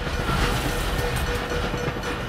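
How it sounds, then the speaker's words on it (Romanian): A train in the video game Dishonored rumbles past with a steady, fairly loud rolling clatter and hiss, continuous for the whole short stretch. "un tren. Un tren, nicio problemă."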